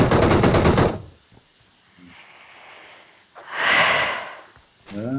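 Bursts of PUBG gunfire come in a loud burst at the start, then again near the end, with quiet gaps and breathy noises between.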